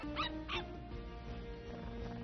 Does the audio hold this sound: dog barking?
yes